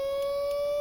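An antique fire truck siren in the Stormworks game holds a steady, unbroken electronic tone, loud and continuous through the short moment with no voices.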